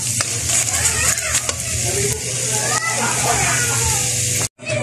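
Eggplant and dried fish (bulad) fry in hot oil, a dense, continuous sizzle with stirring and scraping clicks in the pan, close and loud, with muffled voices in the background.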